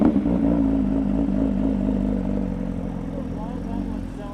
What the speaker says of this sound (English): It's the same engine, just the exhaust setup is so different